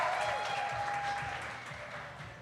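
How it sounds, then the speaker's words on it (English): An audience applauds at a jigsaw puzzle competition, a pairs preliminary round at the Portland Jigsaw Masters. The clapping is dense and continuous throughout, with a faint steady tone running underneath. "Give them a round of applause, everybody"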